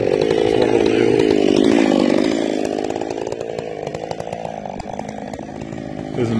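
A chainsaw revs and bites into a log to cut away a bad, defective section of timber. The engine whines loudly up close, then settles into a steady lower drone as the cut continues, with no voices.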